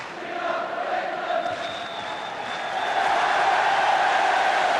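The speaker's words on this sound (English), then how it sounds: "Greenhoff for England, the cry from the crowd." A large football crowd at a 1975–76 Division One match between Manchester United and Sheffield United chants for Greenhoff, a broad, sustained roar of voices that swells louder toward the end.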